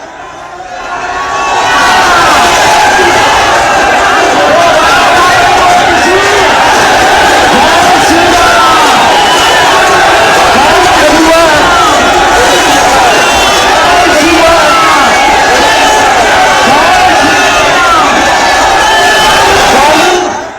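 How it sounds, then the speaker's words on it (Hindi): A huge crowd of thousands on a Hindu religious procession march led by Bageshwar Baba, arriving in Vrindavan, roars continuously with dense overlapping shouting and chanting, loud and close throughout. "भीड़ देखिए जरा, हजारों की भीड़ जुटी थी।"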